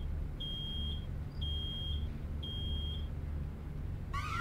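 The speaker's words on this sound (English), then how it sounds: "It's an alarm. Kid, stop the alarm." An alarm in the video game Road 96 beeps three times in even, piercing tones, each about half a second long, over a steady low engine-like rumble. A short warbling chirp follows at the end.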